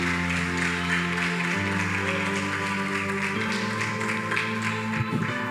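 A church congregation applauds in a sustained wash of clapping, mixed with loud organ or keyboard music that carries on beneath it.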